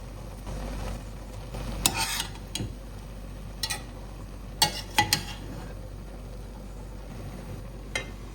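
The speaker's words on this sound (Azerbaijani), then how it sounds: "Bu cür biraz qaynamağa başlayanda qaşıqla qarışdırıram." A spoon stirs beans in a pot on a medium flame as they begin to boil, with scattered scraping clinks against the metal over a low, steady simmer, close and fairly quiet.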